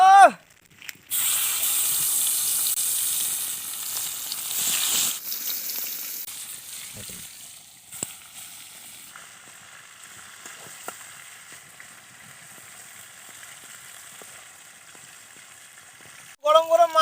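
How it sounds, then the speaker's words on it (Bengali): Tilapia pieces sizzle in hot oil in a village kitchen, a loud bright hiss that starts sharply, then settles into a softer, steady frying crackle that fades toward the end. "মাছগুলোকে এবার ভেজে নেব"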